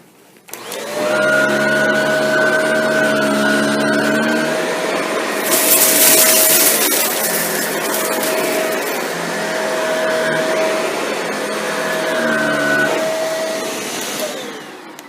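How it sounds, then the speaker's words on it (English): A Shark NV682 upright vacuum cleaner runs steadily over scattered particles, a loud continuous motor whine with a strong tonal hum, swelling briefly into a harsher rush of airflow and debris mid-run, with no talking. "So let's see how the vacuums perform. First, we're going to run the 682."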